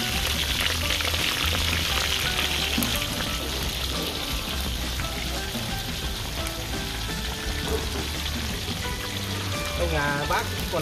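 Battered shrimp deep-fry in hot oil for a rural New Year village feast, a dense, continuous crackling sizzle that stays loud and close throughout.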